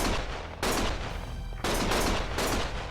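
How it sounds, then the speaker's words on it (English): Bursts of video game gunfire from Lost Judgment, several loud volleys of rapid shots that come and go in waves, with dense crackling reports filling the whole stretch. "Stop shooting!"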